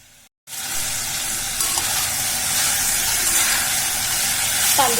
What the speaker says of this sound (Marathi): छान परतून घ्यायचा तर गॅस मोठा करते आणि परतून घेते